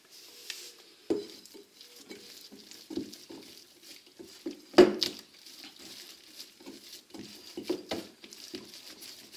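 Fougasse dough studded with black olives is kneaded by hand, producing soft, irregular squelches, slaps and light taps up close, quiet between strokes, with one firmer thump midway.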